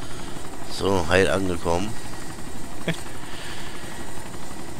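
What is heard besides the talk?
helicopter in DayZ Epoch video game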